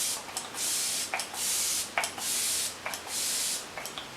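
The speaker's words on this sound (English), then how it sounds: "set our face, well, my face, with the Flower Beauty Seal the Deal Long Lasting Setting Spray" Flower Beauty Seal the Deal Long Lasting setting spray misting onto a face, four close, steady hissing spritzes in an even rhythm, each with a small pump click before it.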